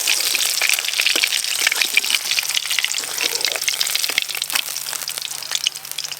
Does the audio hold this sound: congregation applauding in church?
no